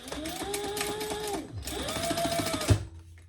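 A sewing machine top stitches a seam in two close bursts of rapid, even stitching with a short pause between them, ending in a small clunk. No one speaks during it.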